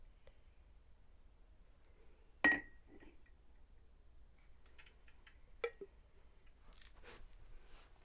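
A drinking glass being maneuvered to trap a bug gives one sharp clink, followed by a few faint taps and ticks in an otherwise quiet room.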